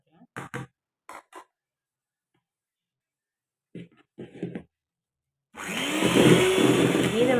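An electric beater whips egg whites with sugar for a vanilla sponge cake, starting with a loud, steady whirring drone after brief bursts of speech.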